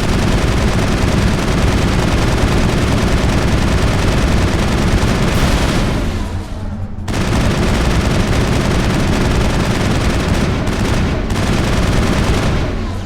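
Sustained assault rifle fire from the Mass Effect video game, a dense rapid stream of shots running almost the whole time with one brief pause midway, loud and close with no talk over it.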